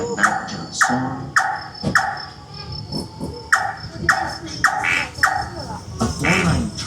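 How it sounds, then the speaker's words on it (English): A nightjar repeats sharp, rhythmic calls at short intervals over a busy background of insects in a forest at night at Singapore's Mandai Wildlife Reserve. "A nightjar song"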